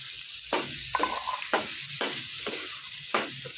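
Mutton liver with ginger paste and green chillies is stir-fried in a pan, a soft steady sizzle broken by about six rhythmic scraping stirs, close and clear with no talking.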